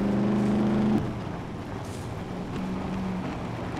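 A car engine hums in the SCUM video game as the vehicle drives slowly downhill, a steady motor drone that drops in pitch and eases off partway through, fairly quiet with no voices.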